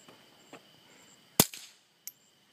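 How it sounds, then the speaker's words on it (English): A single sharp report from a suppressed Ruger Amphibian S pistol, short and fairly loud, followed by a fainter click a moment later against a quiet outdoor background. "So I'm going to fire the Ruger first."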